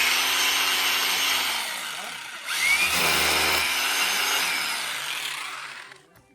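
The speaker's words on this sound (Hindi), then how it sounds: "इसको अंदर करने के लिए दोबारा से ड्रिल करना होगा इस जगह पे" A power drill bores into material to refit a TV antenna, a loud continuous whir that dips briefly, then surges again and runs steadily before winding down at the end.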